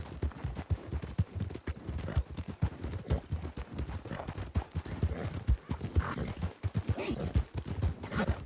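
Horse hooves clip-clopping at a steady gallop in Red Dead Redemption 2, a continuous rhythmic run of thuds heard fairly softly, with a brief whinny-like sound mixed in and no talk.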